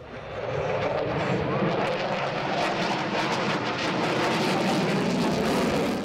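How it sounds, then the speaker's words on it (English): A Polish Air Force MiG-29 fighter jet flies a solo display at an air show, its engine roar loud and sustained throughout, with a broad rushing jet noise that swells slightly and stays steady. "the first of two Polish Air Force acts to perform over the weekend, the popular MiG-29 solo demonstration run by Captain Adrian Rojek."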